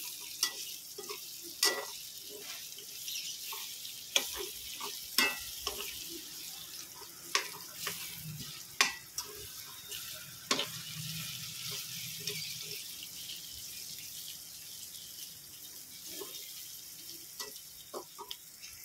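Garlic and onion fry in a pan with a faint, steady sizzle, broken by frequent sharp clinks and scrapes of a utensil stirring against the pan.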